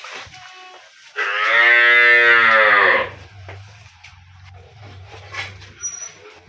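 A high-quality dairy cow gives one loud, drawn-out moo lasting about two seconds, followed by quieter low rumbling and faint shuffling noises.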